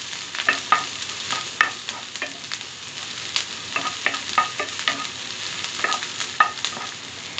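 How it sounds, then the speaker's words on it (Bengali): Chopped onion softening in a pan for a chana dal and egg dish, stirred gently so it crackles with a steady sizzle and repeated scraping strokes, close and moderately loud with no voices. "এখন পেঁয়াজটা আমি হালকা একটু নেড়ে চেড়ে একটু কালার না আসা পর্যন্ত অপেক্ষা করছি"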